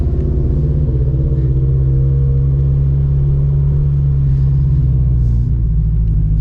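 A 400-horsepower turbocharged 2013 Scion FR-S with a straight-pipe exhaust pulls under acceleration, giving a loud, steady low rumble with a strong droning tone that rises slightly throughout.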